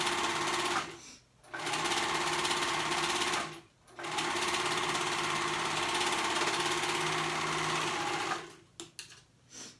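Domestic sewing machine stitching a cuff onto a garment sleeve through three fabric layers, running loud and steady in three long bursts separated by brief pauses, with no talking.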